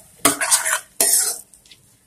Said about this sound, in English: Let me mix it nicely.